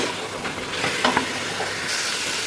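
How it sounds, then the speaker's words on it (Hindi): Chicken karahi with green chillies fries in a pan, giving a steady close sizzle and hiss with a few brief stirring clinks, and no talk. "ये देखिए, मैंने 1/2 मिनट और फ्राई किया इसको हरी मिर्च डालने के बाद।"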